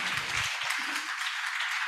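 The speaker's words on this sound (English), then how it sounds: "Give applause to our Professor Song Hyung Wang Myong." Applause from the audience at an academic conference session on smart city governance, a soft continuous spatter of clapping heard from some distance, fairly faint and unbroken, with a brief low murmur near the start.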